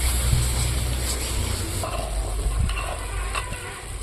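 Chili powder, turmeric and salt frying in oil for a cabbage dish give a steady, dense sizzle that stays loud and unbroken throughout, with faint stirring scrapes under it and no talk.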